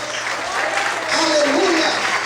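Church congregation applauding during an evening service, a dense patter of many hands clapping that swells louder partway through, with voices calling out over it.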